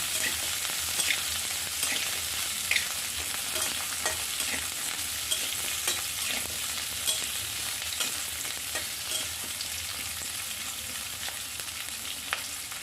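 Stuffed parwal (pointed gourd) cooking in oil in a pan gives a steady, even sizzle, with light scattered stirring clicks over about thirteen seconds and no voices.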